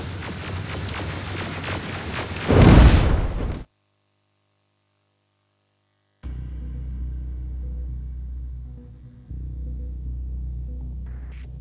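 A rocket blast in Terminator: Resistance bursts loud and close, a short crackling boom over a steady low rumbling hum, then the sound cuts to silence before the droning hum returns.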